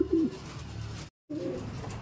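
A racing pigeon coos softly a few times nearby after arriving from a derby race, with a brief moment of silence partway through and faint low rustling underneath.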